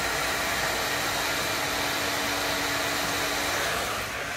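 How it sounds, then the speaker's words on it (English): A hot air welding gun blows a steady, even roar of heated air onto an overlap of Flexiglass roofing, continuous and close with no pauses or voices. "once the gun's hot enough, get it hot, you're going to put that into that join and just get a tack weld on there to start with"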